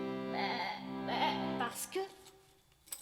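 Sheep bleating: a couple of drawn-out wavering calls close by, followed by shorter sounds and a brief voice-like fragment near the end.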